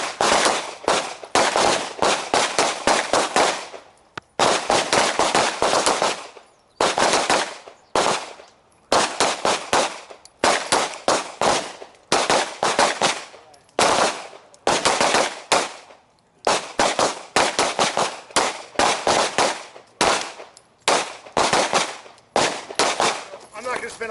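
Rapid strings of pistol shots from a red-dot handgun during an outdoor accuracy and speed drill crack loudly in repeated bursts, separated by short pauses, with occasional voices between strings.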